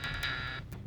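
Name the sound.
doorbell ringing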